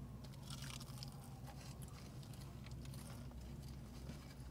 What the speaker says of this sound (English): I hope you guys love the sound of this crunchiness